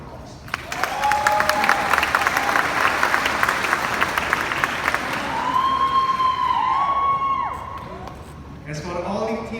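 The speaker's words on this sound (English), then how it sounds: "Please give them a round of applause." Applause from the audience at a high school sports awards ceremony, a dense wave of clapping with whoops and cheers rising in the latter half, then a voice begins speaking as it fades.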